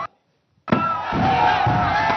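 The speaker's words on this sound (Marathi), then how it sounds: "जल्लोष सध्या सर्वत्र पाहायला मिळतोय" A dense crowd roars at Shivaji Park, celebrating India's 2025 Champions Trophy cricket win. It bursts in loud and sustained after a brief silence, with voices shouting together.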